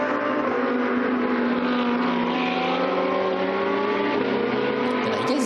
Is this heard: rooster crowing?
no